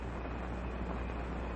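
A distant train on a quiet night, heard as a steady low rumble that holds evenly throughout with no other sounds over it.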